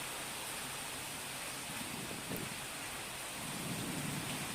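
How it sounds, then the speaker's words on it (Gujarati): Heavy unseasonal downpour with thunder and gusty wind, a dense, continuous roar of rain with low rumbling swells of thunder beneath it, steady and fairly loud throughout. "ભારે પવન અને વીજળીના કડાકા ભડાકા સાથે આ ધોધમાર કમોસમી વરસાદ છે"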